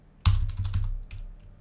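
Keys on a wireless computer keyboard are typed in a quick burst of loud, close clacking strokes that start abruptly and then taper off, with no speech.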